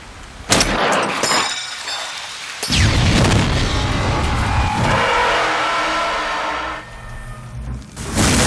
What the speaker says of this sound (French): Maintenant, regardons comment il filme une explosion dans Time and Tide.